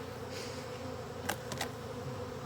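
Honey bees buzzing around a hive during an apiary inspection, a soft steady drone with a few brief louder buzzes as individual bees pass close to the microphone, no talking.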